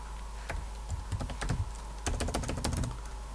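Rapid bursts of typing on a computer keyboard while code is entered, with quick clusters of close, crisp key clicks separated by brief pauses.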